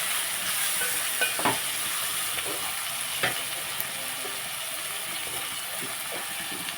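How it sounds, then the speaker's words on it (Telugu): Bean and tomato curry being stirred in a pan with turmeric and salt: steady frying sizzle throughout, with a few soft scraping strokes of the spoon rising above it now and then. "ఇవన్నీ కొంచెం కలుపు చేస్తాను"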